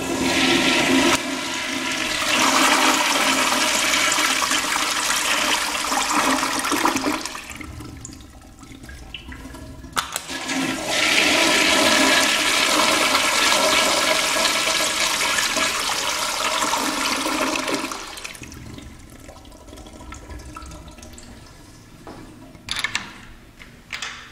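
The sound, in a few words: push button toilet flush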